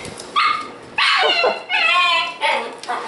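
Shiba Inu puppies bark and yip in high-pitched bursts close by, several sharp calls in quick succession while playing indoors.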